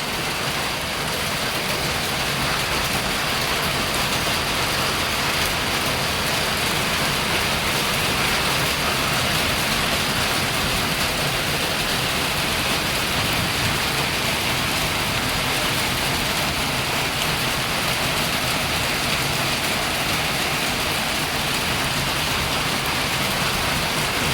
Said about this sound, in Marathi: चांगला आला पाऊस जोरात.